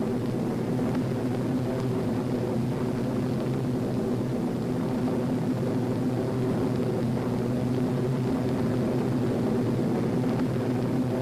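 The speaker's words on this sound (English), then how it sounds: "We'd be climbing all the time. The throttles open to give us power." Engines of an RAF reconnaissance aircraft run at open throttle during a climb, making a steady, loud, unbroken drone with a low humming tone and no other sounds.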